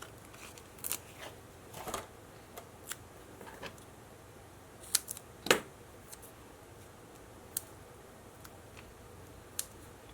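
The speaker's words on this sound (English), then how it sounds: "I actually am going to cut these because they're kind of large for this." Scissors snipping craft pieces, making sparse crisp snips and clicks spread out at a close distance with no talk.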